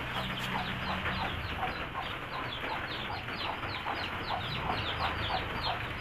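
Chickens clucking repeatedly nearby, short rhythmic clucks over a steady low background hum, no talking.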